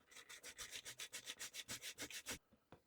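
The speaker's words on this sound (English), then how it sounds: "So I'm going to go ahead and get this sanded down." Quick back-and-forth hand sanding of a small model window insert, about fifteen even rasping strokes close up and fairly soft, then stopping, followed by a couple of faint taps.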